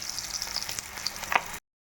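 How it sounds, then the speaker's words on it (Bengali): Whole spices tempering in hot oil after fried fish has been lifted from the pan, a steady close sizzle with a few sharp crackles and pops, cutting off abruptly near the end. "এবার আমি দিয়ে দিচ্ছি ফোড়নটা"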